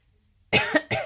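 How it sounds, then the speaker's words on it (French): Two sharp coughs close by, the first after a half-second of quiet, the second following shortly after, loud and harsh. "Je tousse."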